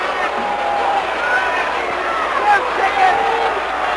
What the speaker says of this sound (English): Colt and Dundee head back towards the dressing room as the crowd starts booing.